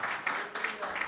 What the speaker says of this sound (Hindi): यीशु मसीह के लिए तालियां बजाएं